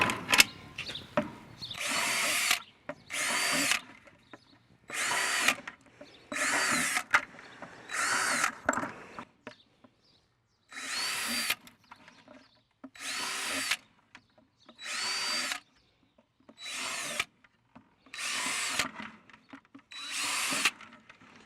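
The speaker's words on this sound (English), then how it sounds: "drill 10 or so holes in the bottom of the top bucket" Power drill boring about ten holes into the plastic bottom of a bucket for a self-watering planter, in a series of loud, evenly spaced bursts of a couple of seconds each, separated by brief pauses.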